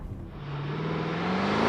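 Mercedes GLS luxury SUV accelerating hard in an acceleration test, a steady engine roar that climbs in pitch and grows louder over under two seconds, heard from inside the cabin.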